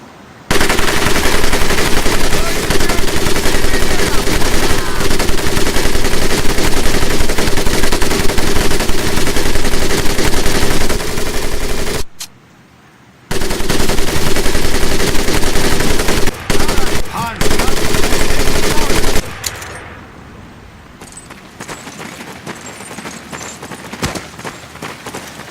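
A machine gun fires in Medal of Honor Pacific Assault, loud dense continuous bursts of automatic fire that stop briefly, resume, then give way to quieter ambience near the end.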